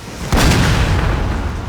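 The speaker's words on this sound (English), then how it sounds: "Oh, that's quite devastating opening salvo." Cannon salvo from a Napoleonic-era battle in Napoleon: Total War, heard as a sudden loud boom that rolls into a sustained rumble of staggered artillery fire, with no talk over it.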